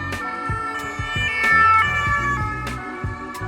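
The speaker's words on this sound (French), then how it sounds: "La police française utilise le 2 tons" French police two-tone siren wailing loud and close, alternating high and low notes in a steady repeating pattern for several cycles, with no voices.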